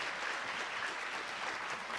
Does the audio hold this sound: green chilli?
no